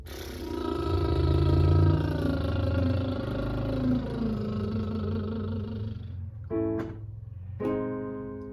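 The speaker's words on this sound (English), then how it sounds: "Let me try it on a trill now." A singer performs a rolled tongue trill vocal exercise, a buzzing fluttery tone sliding gradually down in pitch, followed by a couple of short trilled bursts near the end.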